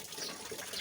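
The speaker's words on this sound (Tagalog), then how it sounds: "Muna nakapadugang sa ni awas ng tubig." Water overflowing from a tank, a steady faint rushing gush of running water with no distinct breaks, distant and low, without speech.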